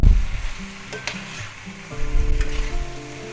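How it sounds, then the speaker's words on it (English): Marinated pork stir-fried with vegetables in a pan, a steady close sizzle with scraping stirs and a louder surge as the food is turned. "now we're going to add our marinated pork back in. Put that right back in there. And we're going to stir that in."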